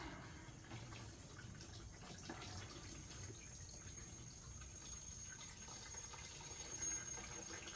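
Non-ethanol 92-octane premium fuel pours into a lawn tractor's tank in a quiet shop, a soft, continuous liquid trickle and gurgle at close range with no talking.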